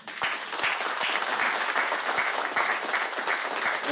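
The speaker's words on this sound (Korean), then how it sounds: "뜨거운 박수를 부탁드리겠습니다" Audience applause at an artists' fair-finance vision declaration ceremony at the Roh Moo-hyun Citizens Center, moderately loud, with distinct individual claps audible in an uneven rhythm within a continuous crowd clapping.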